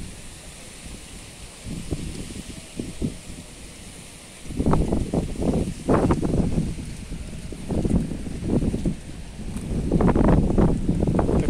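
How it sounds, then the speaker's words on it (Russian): Strong wind gusts through a rainy night outdoors, a steady hiss with heavy rumbling buffets against the microphone that grow louder and more frequent toward the end, with no speech. "Такой сильный ветер"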